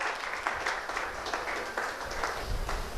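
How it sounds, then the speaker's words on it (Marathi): Audience applause at a ceremony honouring meritorious students with prizes and certificates, a fairly soft, steady patter of many hands with small swells, slightly distant and continuous throughout. "सर्वांनी त्याच जोशाने टाळ्या वाजवायच्या आहेत"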